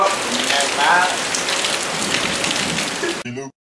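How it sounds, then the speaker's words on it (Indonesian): Steady rain pours down outdoors in a dense, even hiss that runs throughout, with a brief voice near the end before it cuts off. "Serius hujan?"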